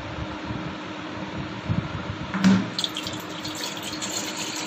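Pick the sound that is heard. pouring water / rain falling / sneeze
pouring water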